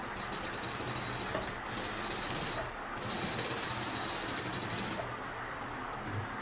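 A sewing machine stitches a side seam on a fabric bag, a continuous rapid mechanical whir and chatter up close, pausing briefly a few times before running on.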